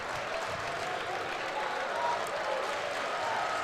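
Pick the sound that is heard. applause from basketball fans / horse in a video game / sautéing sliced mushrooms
applause from basketball fans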